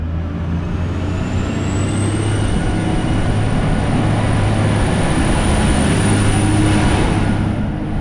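A steam excursion train running along the line to Woodend, heard from on board as a loud, steady rumble and roar of wheels on rail, constant throughout with a faint high whine rising above it.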